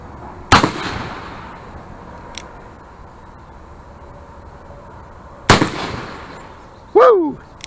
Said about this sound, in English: we'll shoot this next round and you'll get a view.